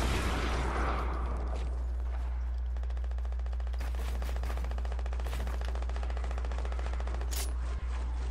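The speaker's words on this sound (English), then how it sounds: "they're shooting at me" Rapid automatic gunfire crackles in dense repeated bursts, aimed at the player during a battle-royale shooter match, with a constant low hum underneath and a sharper close shot near the end.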